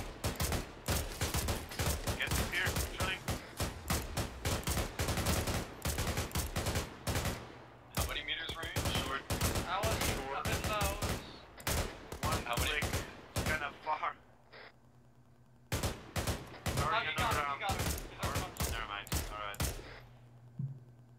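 Gunfire from a military video game crackles in dense bursts and rapid single shots, loud and close, pausing briefly and then resuming, with a few mechanical clicks.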